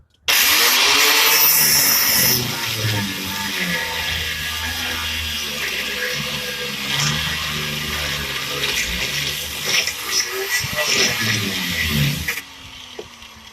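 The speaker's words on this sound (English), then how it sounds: "So what I'm going to have to do is grind this one up" An angle grinder cuts through the stuck end of an old broken sway bar link on a car, a loud steady whine with a shifting, rough tone that runs for about eleven seconds before cutting off.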